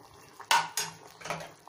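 A metal spoon scrapes and clinks against a pressure cooker pot of fresh pigeon pea sambar in a few quick strokes, close by.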